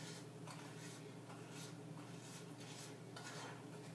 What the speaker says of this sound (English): we're going to stir this up really well